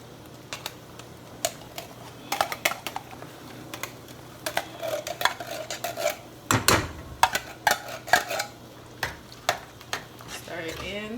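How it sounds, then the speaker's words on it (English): Baked beans go into a pan with bacon, with irregular scraping, tapping and stirring clatter close by, a wet squelch midway, and a soft steady background hum. "Let's add our baked beans."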